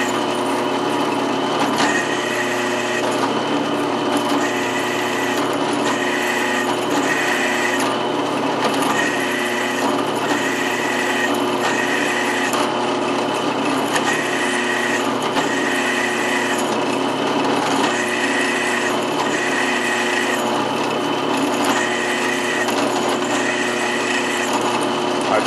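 A drill bores holes through a half-inch-thick steel pritchel plate for blacksmithing, lubricated with cutting oil, producing a loud, steady whining grind with a rhythmic pulsing pattern that runs close and unbroken throughout.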